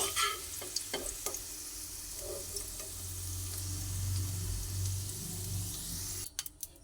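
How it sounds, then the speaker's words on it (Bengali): Sliced onions fry in hot oil in a pan after fish has been fried in it, a continuous close sizzle with clicking stirs near the start and a swelling hiss. "তেলের মধ্যে পেঁয়াজ দিয়ে পেঁয়াজ ভেজে নিচ্ছি"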